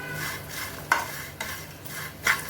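Spicy mixed nuts roast in a pan, rustling and crackling as a spoon stirs them, with a few sharp scrapes and clinks over a soft sizzle.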